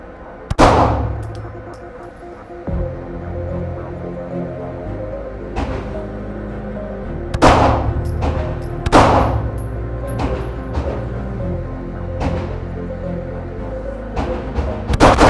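A brand-new ZEV OZ9C Special Edition pistol fired for the first time at an indoor range, with loud, sharp reports spaced irregularly, each with a ringing reverberant tail, and no voices.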